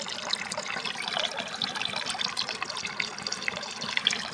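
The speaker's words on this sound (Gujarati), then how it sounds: "હવે ત્રણે સિંડામાં પાણી આવવા મળ્યું છે હું ઓલું આ ડટી કાઢીને તમને દેખાડું આમાં કેટલું આવતું જો" Water gushes steadily out of a pipe once its plug is pulled in a farm field, a continuous close splashing flow with no voices.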